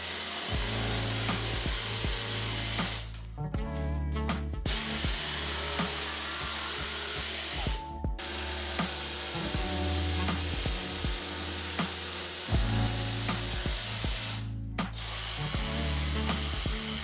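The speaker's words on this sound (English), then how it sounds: "I drill a couple of holes and cut out the rest using my jigsaw" A jigsaw cuts a handle opening in a plywood drawer front in a woodshop, a buzzing, rasping cut in several bursts separated by short pauses.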